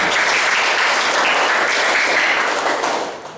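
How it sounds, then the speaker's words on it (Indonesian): Steady applause from a crowd of students gathered in a school classroom, filling the whole stretch loudly and evenly before tapering slightly at the end. "Tepuk tangan dulu untuk kita semua"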